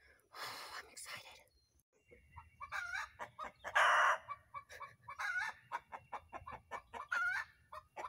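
A hen clucks loudly just after laying an egg, a repeated, insistent cackle, close by, with rhythmic calls rising into an excited squawk, and no one talking.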